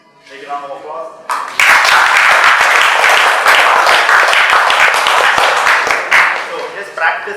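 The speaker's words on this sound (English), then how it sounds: "Take a round of applause" Audience clapping swells abruptly into sustained, loud applause from a room of people, dense and even before tapering slightly, with a voice briefly before it begins.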